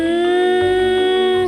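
A vacuum cleaner runs steadily and loudly, its motor producing a constant high whine with strong tonal harmonics and a slight shift in its low rumble partway through, with no one talking.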